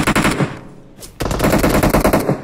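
Loud bursts of rapid automatic gunfire from a team shooter video game, with a brief pause before the firing resumes in dense, rattling strings.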